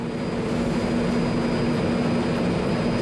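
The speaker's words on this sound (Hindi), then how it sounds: "वायुसेना के विमानों ने एडिनबर्ग के ऊपर से फ्लाई पास्ट निकाला" Nine Royal Air Force planes fly together low over Edinburgh, producing a loud, continuous broadband engine roar that stays steady throughout with no other sounds.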